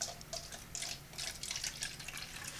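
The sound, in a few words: pouring water from a gallon jug onto pepper plants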